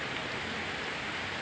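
Steady rain falls during a typhoon over a bitter gourd (ampalaya) farm, a dense even hiss with no pauses or voices throughout.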